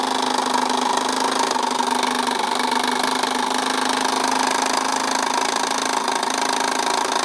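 A small motor on a 24-inch model steamboat runs steadily throughout, a high buzzing whine with a constant hum, loud and close with no pauses or voices.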